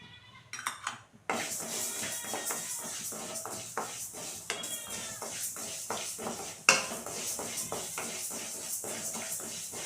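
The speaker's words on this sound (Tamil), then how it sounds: "வெந்தயமும் நல்லா படபடன்னு பொரிய ஆரம்பிச்சிருச்சு." Fenugreek seeds crackle in a hot pan while a fish curry masala is being roasted, giving dense, close popping and spattering with occasional sharper clicks and a scrape of utensil against pan, with no talking.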